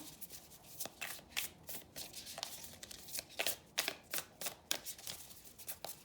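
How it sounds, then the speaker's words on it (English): Tarot guidance cards being shuffled and pulled by hand, a steady run of close, crisp riffling bursts and soft card slaps repeating every half second or so, with no talking. "Let me pull some guidance cards for you as you're moving forward."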